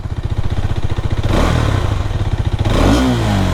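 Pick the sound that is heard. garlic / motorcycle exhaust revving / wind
motorcycle exhaust revving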